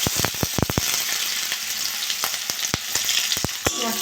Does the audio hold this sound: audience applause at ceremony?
no